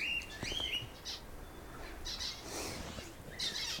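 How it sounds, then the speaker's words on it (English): Little finches chirping in a park, with several short, high, faint tweets and trills scattered over quiet background noise and no talking. "And here we have little finches. Loads of little finches."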